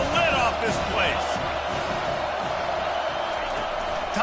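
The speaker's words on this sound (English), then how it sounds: "This crowd is tearing the lid off this place." Football stadium crowd at an Auburn versus Colorado college game roaring continuously, a dense wall of cheering with scattered whoops, loud and unbroken throughout.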